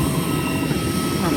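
Loud, steady engine roar of a small passenger airplane up close at Langkawi island airport, a continuous broadband drone with a low rumble.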